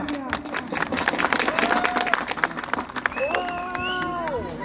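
Audience clapping and whistling at a gathering, with dense crowd applause, babble and cheering throughout and sharp whistle tones rising over the noise near the end.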